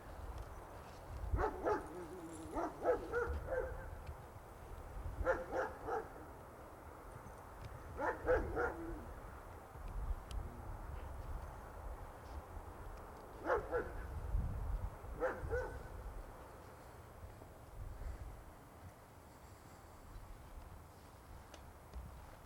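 A dog barks in short bursts, several clusters of barks repeating every few seconds at moderate distance over a steady low background rumble.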